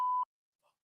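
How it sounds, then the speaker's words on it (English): A single short electronic beep, a steady pure tone lasting about a quarter second, followed by a faint brief murmur. "I think it bleeped out."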